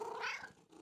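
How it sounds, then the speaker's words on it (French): A cat meows softly in a single brief, gentle call, close and fairly quiet, with no talking over it. "Maman et Caillou entendirent un miaulement discret."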